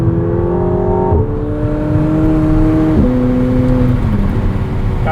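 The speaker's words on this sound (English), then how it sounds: "Sport mode, you can give it a blip, and it'll hold the revs up a little bit longer." A 2024 McLaren 750S Spider engine in Sport mode hums loudly up close, its pitch stepping down in a few drops as the revs fall, with whirring mechanical noise underneath.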